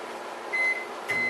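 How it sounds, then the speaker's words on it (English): A microwave oven heating pre-cooked bacon hums steadily at low volume, with two short electronic tones sounding partway through and near the end, no voices. "I'm going to get this in the microwave going."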